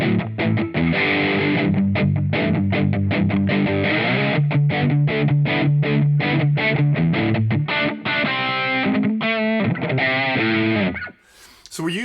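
Distorted electric guitar run through a Flamma E1000 amp sim with the cabinet off, played as a rhythm preset: dense chugging chords and choppy stops, loud and up close, ending abruptly near the last second.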